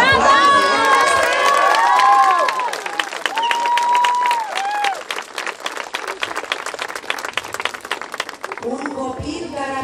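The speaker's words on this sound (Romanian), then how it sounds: "Cred că merită la aplauze!" An audience at a ceremony honouring an Olympic flag bearer breaks into loud applause and cheering, with shouts and dense clapping that thins slightly toward the end while a voice speaks over it.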